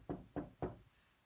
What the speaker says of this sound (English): She knocked anyway.